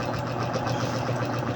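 A Mio Soul i 125 motorcycle engine runs at a steady idle up close, a constant even rattle and hum with a fast regular pulse and no voices over it.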